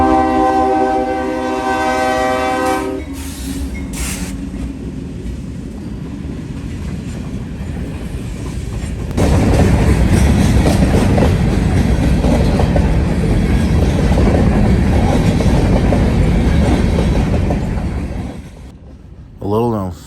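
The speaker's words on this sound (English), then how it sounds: "two big ES-44 DCs are leading the train northbound" A heavy freight train led by two ES44DC diesel locomotives rumbles past with a loud, sustained roar, its horn blaring at the start, rolling wheel noise building and then fading.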